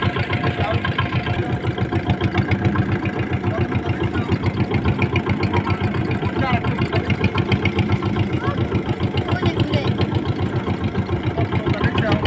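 A motor boat engine runs with a steady, loud, rapid chugging pulse close by, while people talk over it.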